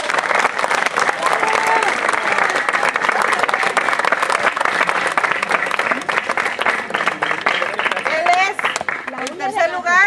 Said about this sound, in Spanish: Para él un fuerte aplauso, por favor.